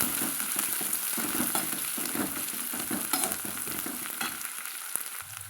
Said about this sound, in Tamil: ஓரளவுக்கு நல்லா பொன்னிறமாக வர்ற வரைக்கும் நம்ம அதையே வதக்கலாங்க.